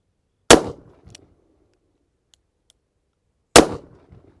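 A Smith & Wesson 686+ Mountain Gun revolver fires .357 Magnum rounds, two sharp, loud single shots about three seconds apart, each with a brief echoing tail and silence between.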